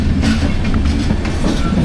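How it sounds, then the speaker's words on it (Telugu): Trains roll through a platform at Kazipet Junction railway station, a loud close rumble with steady clickety-clack of wheels on rails. "2 ట్రైన్స్ ప్యారలల్ రన్ అయితే అవుతున్నాయి అన్నమాట"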